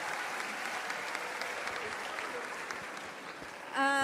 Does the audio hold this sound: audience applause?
yes